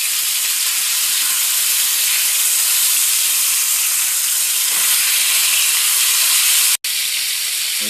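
Halibut fillets searing in a hot pan, a loud close continuous sizzle and hiss that cuts out for a split second near the end, then resumes.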